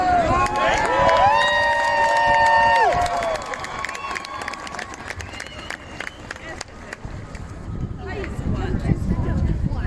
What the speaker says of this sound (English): Big crowd gathered here now.